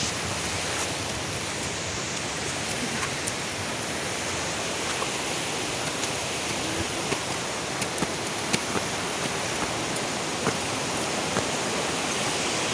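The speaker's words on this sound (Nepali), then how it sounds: "खोला आइपुग्यो है, खोला आइपुग्यो।" A river crossing on a rough trail, rushing water making a steady, loud broadband roar throughout with no voices over it.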